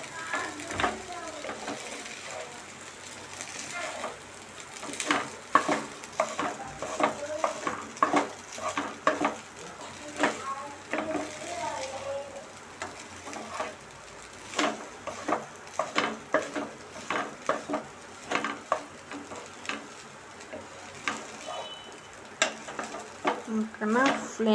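Cooked rice is stirred into okra fry in a pan, giving repeated scraping and clinking strokes of a spoon against the pan over a light sizzle, in an uneven rhythm with no talk.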